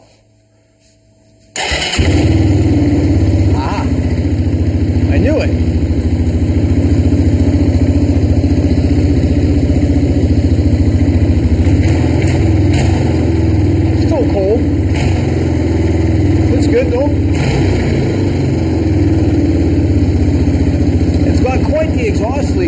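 Moto 4 ATV engine just refuelled, catching at once and then running steadily at a rough idle close by, with occasional voices over it.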